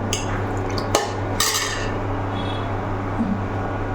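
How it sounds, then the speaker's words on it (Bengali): Milk gets stirred in a pot on an induction cooktop, with a couple of sharp spoon scrapes and clinks against the metal over a steady electrical hum. "এই যে অনবরত দুধ নাড়তে হচ্ছে লেগে যাতে না যায়"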